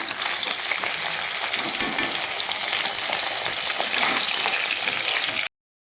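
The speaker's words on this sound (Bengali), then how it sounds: "তো বাকি মাছগুলো আমি ভেজে নেব" Katla fish pieces fry in hot oil with a dense, steady sizzle that crackles evenly from start to finish, close and loud, with no voices.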